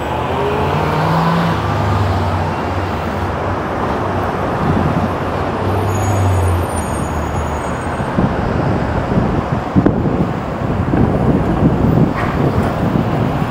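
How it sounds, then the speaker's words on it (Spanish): Cars exit the 110 freeway into downtown Los Angeles city traffic, a continuous loud roar of engines and tires with wind buffeting the microphone and vehicles swelling past now and then. "Aquí carros que salen del freeway 110."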